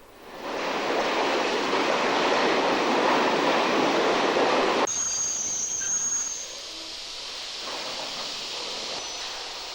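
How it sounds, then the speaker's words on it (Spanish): A French express train replacing the Sud Express branch pulls into Irún station with a loud rushing roar that cuts off abruptly, then a faint squeal and quieter rolling rumble as it slows. "El rápido, que ha sustituido a la rama francesa del Sur Express, llega a Irún"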